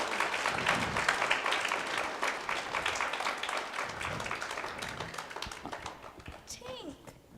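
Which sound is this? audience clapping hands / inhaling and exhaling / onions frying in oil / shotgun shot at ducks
audience clapping hands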